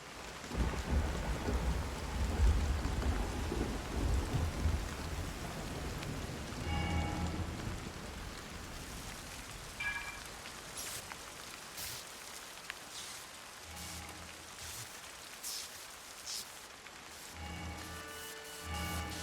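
Thunderstorm in the Zelda: Tears of the Kingdom video game, with heavy rain and deep rolling thunder at first, then a lighter steady patter of raindrops with scattered sharper drips and splashes.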